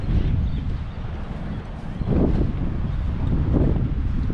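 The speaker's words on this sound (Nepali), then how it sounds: "सरर हावा लागिरहेछ" Wind blowing steadily at Bald Hill Lookout above Stanwell Park beach, a paragliding spot, rushing and buffeting against the microphone with gusts swelling and easing throughout.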